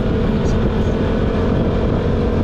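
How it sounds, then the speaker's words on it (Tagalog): Suzuki Burgman 125cc scooter engine pulling hard uphill, a loud continuous low drone with heavy wind rumble, close and steady throughout. "Ang lakas din humatak ng ang Bergman 125 sa paahon."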